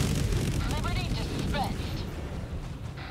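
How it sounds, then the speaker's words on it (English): A Helldivers 2 cluster bomb goes off as a heavy, continuous low rumble of overlapping blasts that slowly fades, with voices faintly audible over it. "I love when the cluster bomb's so bad."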